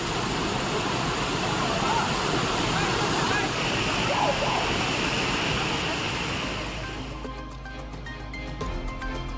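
Panchalinga waterfall in the Thirumoorthy hills, where devotees bathe, gives a steady, loud broadband rush of falling water that softens and thins out over the final couple of seconds.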